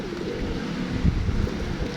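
Pigeons coo in the town plaza of Valencia, Negros Oriental: low, soft murmuring calls under a steady outdoor background hum.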